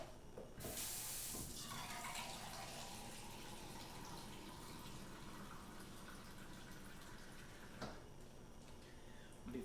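Tap water gushes steadily into a pot of soup, a loud continuous pour that tapers slightly before a brief knock near the end, with no talking.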